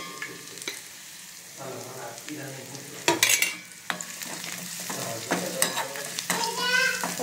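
Phodni tempering sizzling in oil in a pan while being stirred, a steady close crackle broken by scraping strokes and a few louder spatters, with no talking.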